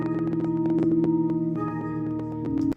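A hybrid organ plays with its first effect switched on, giving a sustained, steady chord rich in harmonics with faint percussive attacks, held for a few seconds before cutting off abruptly.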